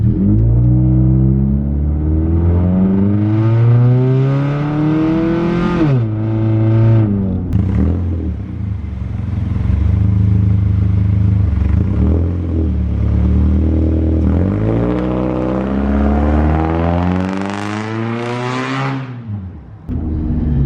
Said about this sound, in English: I am just in drive, which it's not lit up, and I'm just gonna floor it.